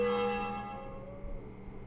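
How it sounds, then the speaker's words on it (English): Church bell in the PS1 video game Juggernaut, a single ringing toll that decays over about two seconds, clear and close, with no voices. "Church bell."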